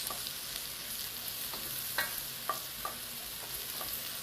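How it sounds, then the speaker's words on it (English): Shallots and mushrooms sizzle in a frying pan with a constant soft hiss, while a utensil stirring them makes a few light scrapes and clicks spaced through. "we're going to stir those up real nice."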